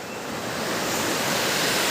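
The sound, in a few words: Kalbilangkuri river water flowing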